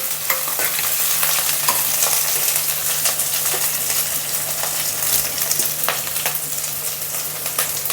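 Garlic paste with onion and chillies fries in a pan for vermicelli upma, a loud continuous sizzle with scattered scraping stir clicks and a low steady hum beneath.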